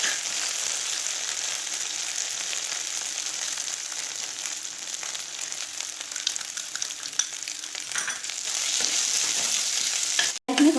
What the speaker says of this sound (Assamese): এতিয়া ইয়াত মই মচুৰ দাইলখিনি দি দিম আৰু 10 মিনিট মচুৰ দাইলখিনি ভাজি ল'ম।